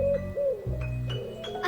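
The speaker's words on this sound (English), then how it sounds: "A pigeon cooing." A pigeon coos softly in short, bending tonal phrases, a few gentle calls in a row against a quiet background.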